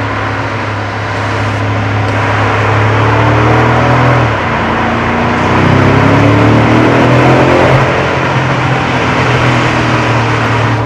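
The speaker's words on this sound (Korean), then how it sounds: "진짜 M 부럽지 않은 터널의 배기음 소리" A BMW M550i exhaust booms through a tunnel under acceleration, a loud, deep, continuous engine note that rises and swells, with rumbling echoes from the tunnel walls. No talking is heard over it.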